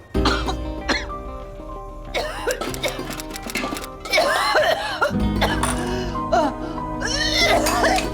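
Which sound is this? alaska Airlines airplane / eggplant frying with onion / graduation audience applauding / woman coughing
woman coughing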